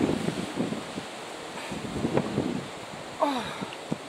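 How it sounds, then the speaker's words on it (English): Gusty wind during Storm Ellen in a kitchen garden, a broad whooshing rush that swells and fades like surf running up a beach, with rustling and buffeting on the microphone throughout. "When that gust starts over there, it almost sounds like a wave coming up a beach."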